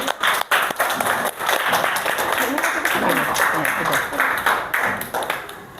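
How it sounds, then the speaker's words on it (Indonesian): A sixth-grade math class applauds a student group, a dense mid-level clapping from the room that runs steadily throughout with voices mixed in underneath. "tepuk tangan untuk kelompok timur"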